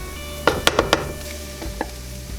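Chopped mushrooms dropped into a pan of sautéed vegetables and stirred, a quick run of four sharp knocks and scrapes over a soft sizzle, then quieter stirring, close up with no voices.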